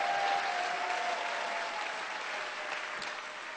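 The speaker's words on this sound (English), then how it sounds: "Wave your hands and applaud for our TARC folks over here." An audience applauds TARC transit workers at an arts showcase and campaign kick-off, with thick, continuous clapping close by that slowly tapers off.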